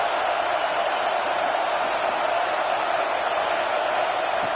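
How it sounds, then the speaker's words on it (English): Stadium crowd in the NCAA football video game at Clemson, a steady, broad roar of many voices holding at a constant, fairly loud level with no distinct cheers or talk rising above it. "And wow, listen to this crowd noise. This stadium is vibrating."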